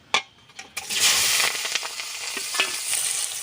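Eggplant, green chili and onion hitting hot oil, opening with a couple of sharp clinks before a loud sizzle erupts and settles into a steady fry with occasional stirring taps.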